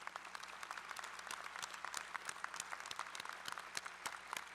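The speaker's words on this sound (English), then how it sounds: "I'd love for you guys to give Professor French a round of applause" Applause from the audience in the stands at a university College of Architecture and Design spring commencement ceremony, continuous crisp clapping that stays quite faint and distant.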